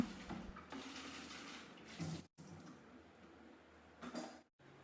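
Dishes clatter and clink faintly in a sink with running water and soft scraping, a few louder knocks of pots between quieter washing sounds.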